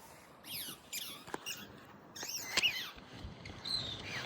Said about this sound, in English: If you hear that squeaky noise, it's my dog chewing on his ball